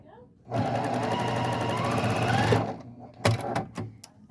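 A sewing machine runs a scant quarter-inch quilt seam in one steady burst of close, buzzing stitching lasting about two seconds, followed by a few short clicks and handling noises.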